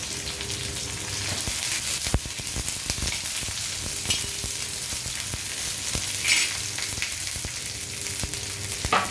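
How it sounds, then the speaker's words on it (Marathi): Vegetables such as potato, brinjal and tomato shallow-fry in oil on a tawa, making a continuous close sizzle with scattered clicks and scrapes of a spatula throughout. "आपल्याला ह्या भाज्या तळून घ्यायच्या तळून म्हणजे शॅलो फ्राय केल्या तरी चालतील"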